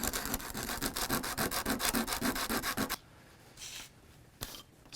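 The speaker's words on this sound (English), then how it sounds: "I'm just going to do a little sanding." Rapid back-and-forth rubbing of sandpaper on small wooden kendama pieces, sanded all at once, rhythmic and close, for about three seconds, then a quiet pause with a couple of soft scrapes.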